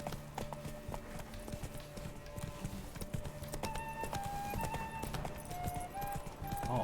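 Horse hooves clip-clop at a steady run in The Witcher 3, a continuous rhythmic patter over game music and ambience, with voices talking over parts of it.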